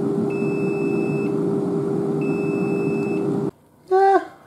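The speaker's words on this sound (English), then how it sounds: "It'll beep to tell me to flip it." A Cosori air fryer timer gives two long, steady electronic beeps over the fan's constant hum. A short chirping tone follows after a brief gap.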